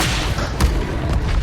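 An Incendio fire spell is cast in a Harry Potter video game: a loud, dense whoosh and rumble of flame fills the moment, with booming low-end bursts over continuous roaring noise.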